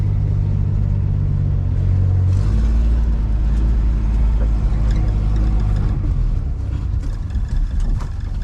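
A 1960 Plymouth backs up in reverse, its engine giving a loud, close, low rumble that steadies after a brief rise in revs, with no talk over it.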